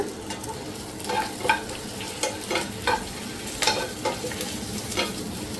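Mutton sukka cooking in just a drop of oil with curry leaves, a steady close sizzle of frying broken by repeated scraping stirs of a spatula against the pan, no voices.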